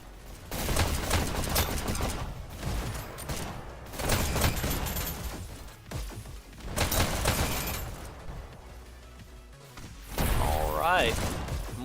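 Rocket explosions in the VR game Dash League come in repeated bursts of loud, crashing blasts and rattling debris, separated by short lulls, with a commentator's voice mixed in.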